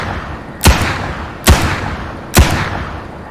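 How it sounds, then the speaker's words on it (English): Three evenly spaced revolver shots from a one-handed firing animation in The Suffering remake horror game, each a sharp loud crack with a short decay, heard alone. "when he's running at a higher speed, he'll fire the revolver with 1 hand"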